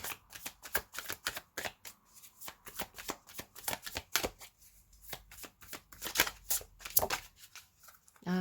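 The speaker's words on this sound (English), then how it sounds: "I'm going to put all the cards together and shuffle them to get a story time." Tarot cards being shuffled close up, quick papery riffles and slaps in irregular bursts, fairly quiet with no talking.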